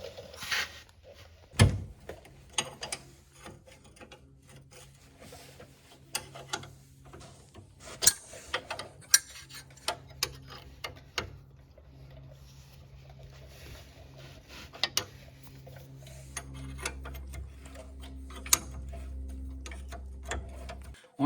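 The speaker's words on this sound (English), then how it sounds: "we're going to take our caliper bolts loose on the back" A wrench loosens the rear brake caliper bolts on a Polaris Ranger, giving sparse metallic clicks and ratcheting ticks up close, with a low steady hum building toward the end.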